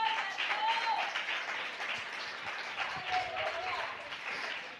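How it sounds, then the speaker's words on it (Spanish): A church congregation gives steady, moderately loud applause that goes on throughout, with voices mixed into the clapping. "Si le va a dar ese aplauso, dáselo de verdad."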